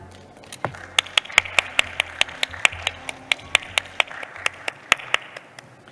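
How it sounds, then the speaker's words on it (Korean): Sparse, fairly close applause from an audience at the 2021 Seoul International Travel Mart medical and wellness conference in Seoul, welcoming a speaker, with separate sharp claps at an uneven pace that stay steady throughout and no talking. "큰 박수로 모시겠습니다."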